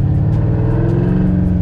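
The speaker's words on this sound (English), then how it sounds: "you're not gonna hear much because it's a loud car." A supercharged 1990s Ford Mustang coupe in reef blue, with stock front suspension, drones loudly from inside the car as it rides, a steady deep engine rumble with no pauses or voices.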